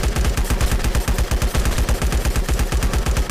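Rapid automatic gunfire in the mobile survival shooter LifeAfter, a loud, steady stream of closely spaced shots rattling on without pause for the whole stretch.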